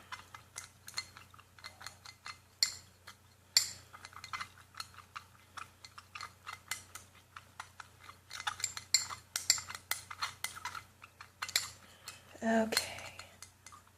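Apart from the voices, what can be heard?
stirring rod mixing solution in lab glassware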